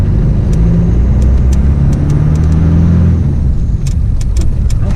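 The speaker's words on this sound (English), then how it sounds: "That engine definitely sounds different then." A 4x4 engine fitted with a Fourby4x4 twin port performance manifold, a loud close low rumble running steadily with small rises in pitch, alone without talk.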